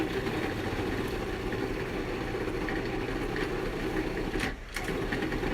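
A blender blade churns frozen bananas into nice cream, a steady mechanical whir that holds constant and briefly dips near the end, without talk.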